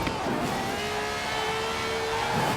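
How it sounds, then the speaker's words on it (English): A V12 engine with over 750 horsepower in Forza Horizon 4 revs steadily with a sustained high-pitched drone that holds at a fairly constant pitch, mid-distance and moderately loud. "This has a V12 with over 750 horsepower"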